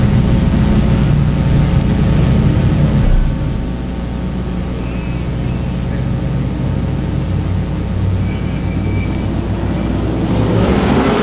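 Sportsman modified race cars accelerate off the start of an eight-lap qualifying race, a loud, dense engine roar that drops slightly after a few seconds and then holds steady, with no talk.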